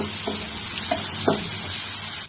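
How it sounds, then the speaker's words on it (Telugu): Ginger frying in a pan for a fish roe curry, a steady close sizzle with a few brief stirring scrapes, ending in a short dip. "అల్లం వెళ్ళి వేస్తండి దీన్ని కూడా పచ్చివాసన పోయే వరకు వేయించుకుందాం"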